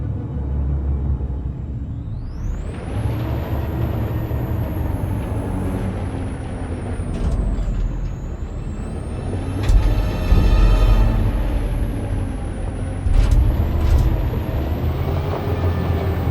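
A truck in Detroit: Become Human, with a deep engine rumble running throughout, a rising high whine, and sharp hissing air-brake releases around the middle and near the end.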